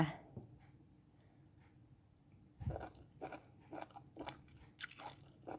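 Someone chews a spicy Thai pounded salad made with fermented fish, close up: quiet at first, then a series of wet crunchy bites and mastication sounds in irregular rhythm, with no speech over them.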